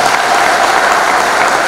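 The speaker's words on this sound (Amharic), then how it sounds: "የካቴድራላችን ዘማሪያን ስለሆኑ ስለ ልጆቻችን አጨብጭቡላቸው" A church congregation claps for the children's choir of St Mary Cathedral in Toronto during a Hosanna celebration, producing steady, dense applause that fills the space throughout without pause.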